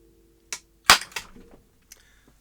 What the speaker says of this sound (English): The filter capacitors blew up.